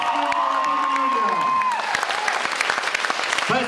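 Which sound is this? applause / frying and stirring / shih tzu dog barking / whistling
applause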